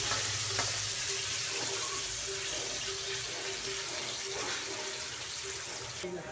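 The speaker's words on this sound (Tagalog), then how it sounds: "Prito natin yung yung patatas muna." Steady crackling sizzle of potatoes frying in hot oil, continuous and close, with faint clinks and a low background hum.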